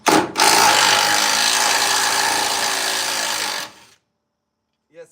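An impact-style power tool loosening the hood hinge bolts on a 1963 Impala runs loud and continuous for several seconds, then cuts off, leaving silence and a brief faint sound near the end.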